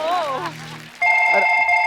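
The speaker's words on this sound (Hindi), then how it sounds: "मेरे को फोन आ गए।" A telephone rings with a steady electronic tone after a brief stretch of talk, sounding loud and close.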